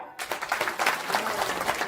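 Loud, dense applause from a crowd at a Banjara bhajan felicitation ceremony, bursting in abruptly and sustaining a steady, even roar of clapping throughout.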